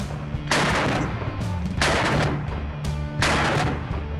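An AK-50 rifle fires three loud, booming shots spaced about a second and a half apart, each blast ringing out and rumbling before the next, heard close with no talking.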